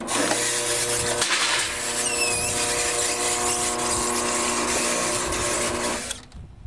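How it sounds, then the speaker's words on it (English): A lock former machine jogs sheet metal through its rollers, giving a steady mechanical hum with a high squeal rising briefly partway through, running continuously until it cuts off near the end. "You can see it coming through the lock former right here, and then these rollers begin to push it in gradually"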